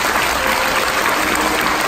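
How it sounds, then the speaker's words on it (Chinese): Dense, steady applause from a wedding crowd greeting the newlyweds, loud and continuous throughout without a break. "我们大家用掌声来祝福这位新人。"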